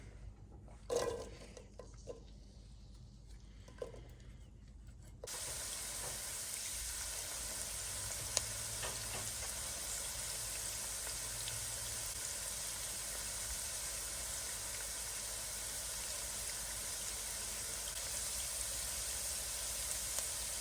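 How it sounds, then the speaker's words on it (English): Three quarters of a cup of finely chopped onion goes into a quarter cup of olive oil over medium heat; after a few quiet seconds of faint clatter, a steady, even sizzle sets in and holds. "Then we're going to cook 3/4 of a cup of finely chopped onion."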